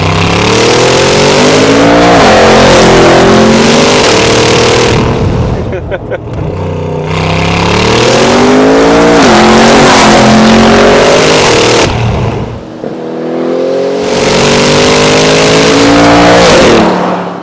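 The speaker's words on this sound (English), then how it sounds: "I can't believe this is a stock tuned burbling car." A Mercedes G63 AMG with an aftermarket Fi-Exhaust revs hard in repeated rising bursts, a throaty exhaust roaring up and dropping back with crackling burbles between pulls.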